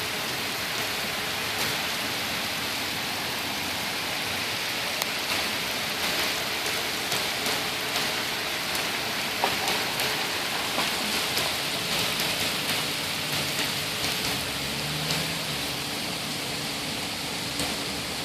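Heavy rain pours down in a continuous, dense hiss of drops striking surfaces, loud and steady throughout with slight swells, no voices.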